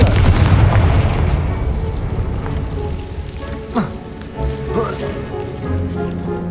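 A Confringo fire spell explodes in the Hogwarts Legacy video game, starting as a loud, heavy boom that fades into a crackling, rain-like rumble over several seconds.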